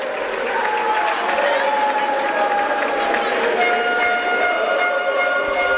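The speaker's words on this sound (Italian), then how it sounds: "Tra gli applausi del pubblico rossoblu esce Ambrosio" Continuous applause from a crowd at a Serie A1 water polo match in a large venue, steady and dense throughout, with a faint tonal hum running underneath.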